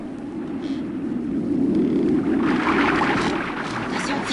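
Deep, steady rushing of water through a rock tunnel with a low roar that swells midway, echoing in the confined space, with no voices.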